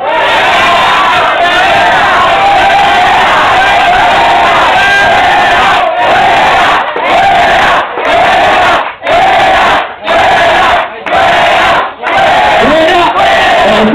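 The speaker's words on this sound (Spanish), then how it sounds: "Aplausos por Drácula." A loud crowd at a Halloween costume party in Duitama, Boyacá, cheers and shouts for a Dracula costume, with a continuous roar that breaks into short rhythmic bursts toward the end.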